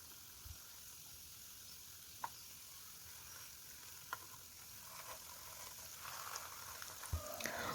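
Bread pieces fry in hot oil for a sweet snack, giving a faint, steady sizzle with a few soft pops and clicks, and no voices.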